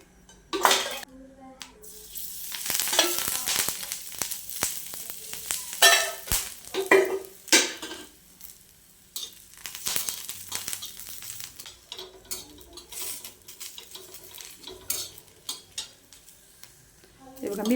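Green chillies roast in a pan with oil, a crackling sizzle broken by scraping stirs and clinks of a utensil on the pan, close and moderately quiet, with no talking.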